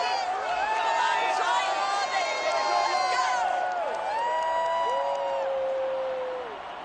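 A packed crowd of about 65,000 roars and cheers at Ford Field in Detroit in an EA Sports football game, a dense, continuous wash of cheering with shouts and whoops that fades slightly at the end.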